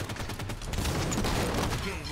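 Assault rifle fire in the multiplayer shooter Halo 5, dense rapid bursts that run continuously and loudly through the short moment, with a voice partly mixed in.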